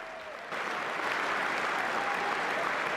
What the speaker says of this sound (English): Who is cheering him?